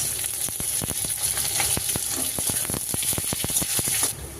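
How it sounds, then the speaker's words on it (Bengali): Chopped onion frying in hot oil with garlic and whole cumin in a pan, a steady close sizzle with sharp crackling pops and occasional stirring clicks, no talk. "পেঁয়াজটা একটু ভাজা ভাজা হয়ে এসেছে"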